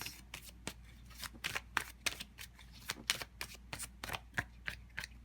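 Tarot cards being shuffled: a run of crisp, irregular riffling and slapping bursts, fairly close and quiet, with no talking.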